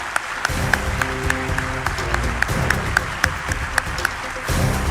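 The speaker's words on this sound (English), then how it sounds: "a huge round of applause for them." Audience applause for the Uttar Pradesh champions at an Indian Army quiz national finale, a steady wash of clapping with sharper individual claps standing out, running about five seconds.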